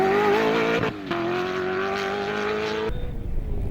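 Race cars, including a BMW, competing at the Koster 200 give off a steady, loud engine whine that dips briefly with a gear change, holds high, then cuts away abruptly near the end.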